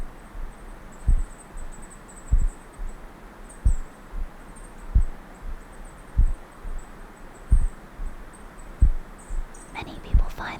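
An alien plant growing gives off a heartbeat-like pulse: soft, deep thumps repeat at a slow, even pace of about one per second over a quiet, faintly hissing background.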